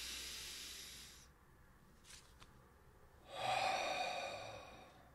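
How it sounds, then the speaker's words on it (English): A deep breath, heard as a long breathy exhale-like hiss, a quiet pause with faint clicks, then a louder, airy inhalation close to the microphone. "Deep breath in."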